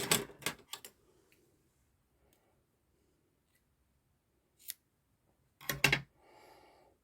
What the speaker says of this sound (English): And I'm going to cut a small amount off.